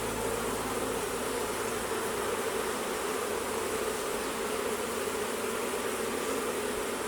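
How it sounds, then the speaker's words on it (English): Worker honey bees buzz steadily on a hive frame, a dense, close, continuous drone with no talk over it. "And these are just all the worker bees."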